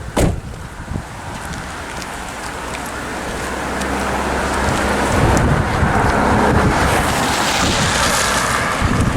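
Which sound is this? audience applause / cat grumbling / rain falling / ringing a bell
rain falling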